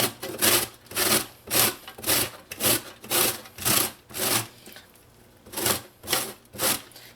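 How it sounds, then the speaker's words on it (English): A firm, skin-on mango is grated by hand on a grater for Trinidad kuchela, about a dozen loud, close rasping strokes in a steady back-and-forth rhythm with a brief pause midway, no talking. "So I'm going to go ahead and grate my mangoes."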